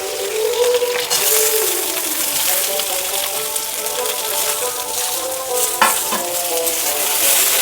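Cut ivy gourd (kundri) fries in hot oil in a wok with a loud, continuous sizzle, broken by occasional scraping stirs.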